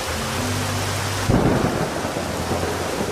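Heavy rain pours steadily at night in lion country while thunder rumbles low, swelling into a louder crack partway through, with no voices present.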